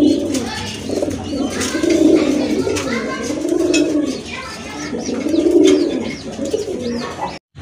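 Big-sized pigeons cooing close by, repeated low rolling coos in a steady rhythm, with faint chirps and rustling around them.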